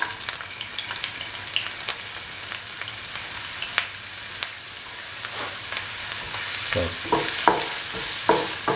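Garlic and ginger sizzle and fry in a pot for a mutton coconut milk stew, a soft continuous crackle broken by scattered sharp pops and stirring scrapes that grow busier near the end; a brief word is spoken.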